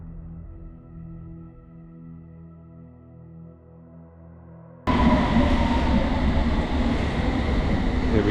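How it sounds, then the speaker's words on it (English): A London Underground train near Gants Hill roars past close by, a loud rushing rumble with rattling wheels, preceded by a quieter droning hum. "wait here and see what it looks like when the train goes"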